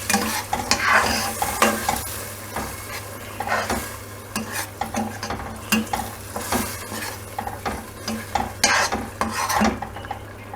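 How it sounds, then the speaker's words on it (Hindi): Masala paste frying in a pot for Karachi chicken biryani while a spoon stirs it, with loud sizzling bursts and repeated scraping and clinks of utensil against metal in an uneven rhythm, no talking. "वो हम पेस्ट अब इसमें डाल रहे हैं। इसको ज़रा अच्छे तरीके से मिक्स कर लेंगे।"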